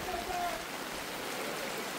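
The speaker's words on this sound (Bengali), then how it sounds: "প্রচুর বৃষ্টি হইতে আছে সকাল থেকে, ঝিরি ঝিরি বৃষ্টি" Steady light drizzle falling over Saidpur market, a continuous soft hiss of rain close by with a brief faint tone early on and no clear voices.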